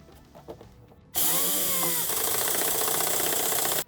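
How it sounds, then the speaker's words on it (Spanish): Power drill driving a self-tapping screw into the chassis of a 2021 Nissan NV300 facelift van, a few faint knocks and then a loud, close, steady whine with a short rising motor pitch, running for nearly three seconds before stopping abruptly. "Con la ayuda de un tornillo autorroscante pondremos las"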